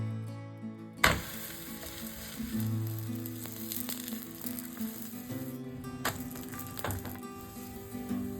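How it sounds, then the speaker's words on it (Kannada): An aloo paratha fries in ghee or oil on a hot pan, a steady close sizzle with a sharp clatter near the start and occasional light scrapes and taps throughout. "ಇದನ್ನು ಸುಡುವಾಗ ಸ್ವಲ್ಪ ತುಪ್ಪ ಅಥವಾ ಎಣ್ಣೆ ಎರಡರಲ್ಲಿ ಯಾವುದಾದ್ರು ಒಂದನ್ನು ಉಪಯೋಗಿಸ್ಕೊಂಡು ಸಾಕು"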